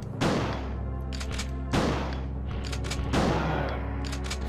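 Gunfire in the Resident Evil 2 video game: three loud, booming shots spaced about a second and a half apart, each ringing out with a long decaying tail.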